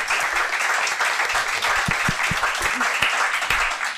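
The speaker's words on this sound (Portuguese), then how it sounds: "eu queria pedir a todos os presentes uma salva de palmas para toda" Audience at a medical lecture on heart failure in diabetic patients gives a steady round of applause, a dense patter of many hands clapping throughout with a few sharper individual claps standing out.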